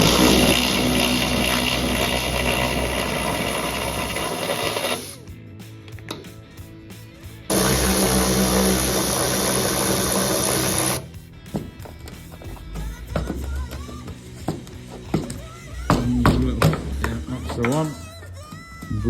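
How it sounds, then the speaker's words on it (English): Two long bursts of a power drill grinding into rusty metal while drilling out spot welds on a 1970s Citroen H Van, each a few seconds, separated by a short pause, then scattered clanks and handling noises. "So we've got to drill them out, and then hopefully this is going to come down."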